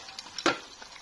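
Rice vermicelli stirred and frying in a pan, soft sizzling with one brief louder scrape of stirring, fairly quiet and alone.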